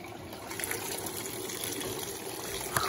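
Electrolux Blue Touch 12kg washing machine filling with hot water around bath towels, a continuous close gushing and splashing of water pouring in, steady throughout.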